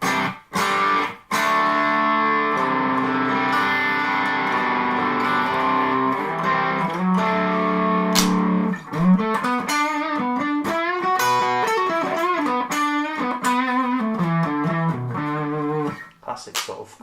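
A Strandberg Boden OS Original 6 electric guitar through a Lagrange pedal on its lowest gain voice, gain at midpoint, into an amp: sustained lightly driven chords ringing out, then a run of articulated single-note lead phrases.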